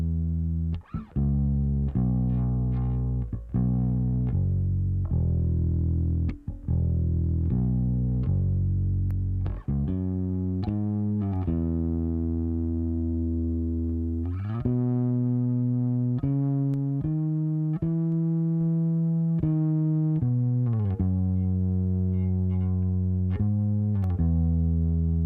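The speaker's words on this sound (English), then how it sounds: "Let's add some of the total harmonic distortion circuit to it, and let's see what that does." A sustained electric bass through the harmonic distortion circuit of a Wes Audio Dione SSL-style 500 Series compressor plays slow held notes with a gritty, slightly crunchy distortion, steady and fairly loud with no talking.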